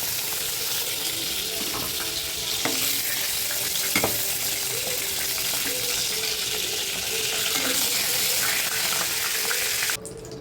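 Eggplant pieces in hot oil keep up a loud, steady frying hiss, with occasional stirring clinks and scrapes close by, before the sound cuts off abruptly at the end.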